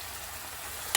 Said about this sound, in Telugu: ఈ పేస్ట్ని ఆయిల్లో వేసేసుకొని పచ్చి వాసన పోయేంత వరకు చక్కగా వేగనివ్వాలండి.